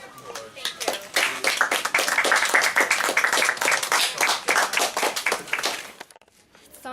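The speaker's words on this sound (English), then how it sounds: "please give a warm round of applause" Applause from a crowd gathered in a backyard, a dense run of clapping that holds steady for several seconds before dying away, with some voices mixed in.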